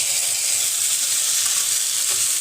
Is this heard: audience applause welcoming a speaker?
no